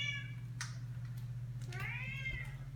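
A cat meows twice, close and fairly faint, a short rising cry followed by a longer drawn-out meow over a steady low hum.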